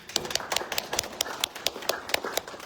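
Scattered hand claps from an audience at an art exhibit and fashion show, distinct individual claps rather than a dense roar, fairly faint and somewhat distant.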